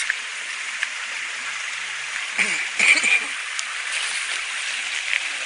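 Spring water flowing and trickling at night, a steady hiss-like wash with a brief louder splashing burst midway, voices speaking faintly underneath.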